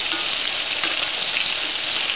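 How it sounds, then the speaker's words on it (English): Battered alligator pieces fry in hot oil, giving a dense, continuous crackling sizzle heard up close, with no talking. "Alright, these are frying up pretty good."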